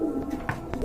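Pigeons at a pigeon seller's stall, a few short soft coos and wing shuffles close by over a low steady background murmur.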